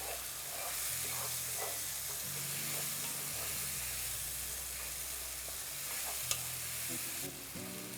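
Ginger garlic paste is stirred into a sizzling beef stew with tomatoes, a steady frying hiss with the scrape of a spoon against the pot, close, and no talking.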